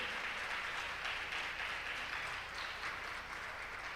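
Church congregation at a Christian sermon applauding steadily, a soft, distant wash of clapping with no voices over it.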